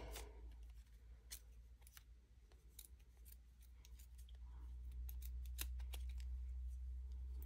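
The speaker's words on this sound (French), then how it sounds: "Donc il va falloir venir prendre un ciseau. Et on vient couper." A new pair of scissors snips through paper while making a pompom for scrapbooking decorations, a series of sharp, close cutting clicks at an irregular rhythm over a low background hum, with no talking.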